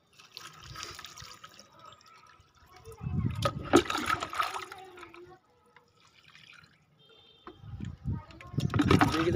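Water poured into a flower pot, heard as two louder splashing bursts with dripping and quieter gaps between, close by, and a voice briefly in the background.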